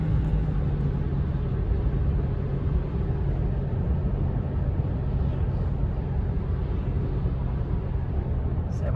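Toyota Hilux 2.4 diesel pickup accelerating on the road: a steady, loud low engine drone and road rumble fill the cabin without a break, with no clear gear changes.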